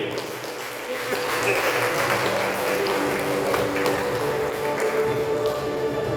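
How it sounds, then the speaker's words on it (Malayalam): An audience claps in a church hall, a steady dense patter of many hands that goes on for several seconds and holds level, with a faint murmur of voices underneath. "നല്ലൊരു കൈയടി"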